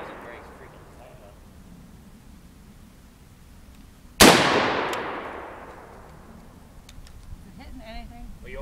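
A single loud AR-15 rifle shot fired outdoors at a target, a sharp crack with a long decaying echo, preceded and followed by quiet background with people talking nearby.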